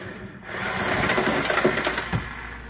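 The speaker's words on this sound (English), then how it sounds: "So we'll go ahead and remove these two bolts" A ratchet or wrench loosens bolts on a Hyundai Genesis Coupe, giving a steady close scraping and clicking rasp that continues without pause and without speech.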